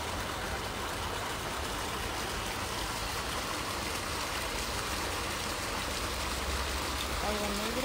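Open sewage channel of dark wastewater pouring toward a waterfall that drains into a river, a constant broadband rushing roar that stays loud and even throughout.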